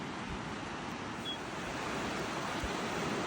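The Kern River flowing at a campsite spot, a steady, loud, broadband rush of water that stays constant and unbroken throughout, with no talking.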